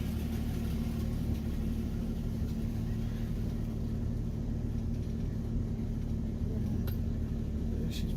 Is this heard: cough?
no